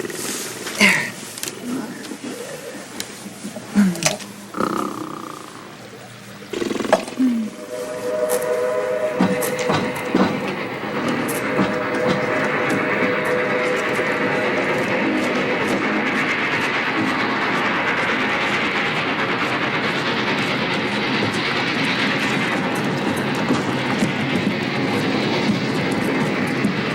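A passing Pullman passenger train rolls by as a steady, loud rumble that builds after a few seconds of scattered sounds and holds for the rest, with a faint whistle tone mixed in.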